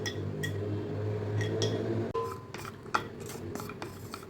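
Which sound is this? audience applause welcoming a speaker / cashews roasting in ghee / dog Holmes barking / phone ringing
cashews roasting in ghee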